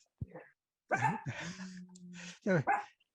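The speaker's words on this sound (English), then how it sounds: "Could you mute the dog, please?" A dog barks several times indoors, sharp close yelps in uneven bursts with short gaps, captured over a video call.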